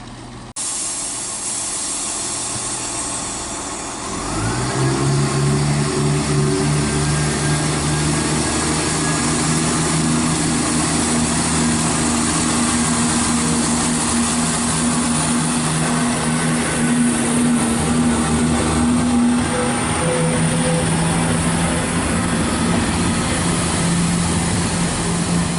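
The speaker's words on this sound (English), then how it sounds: "departing there's 17521, heading out on the 1202 cross-country service to Chepstow from Nottingham" Cross-country passenger train departing Tamworth station on the West Coast Main Line, headed for Chepstow: a loud, steady engine drone with rising tonal hum builds after a few seconds and holds, nearby and continuous, with no talking.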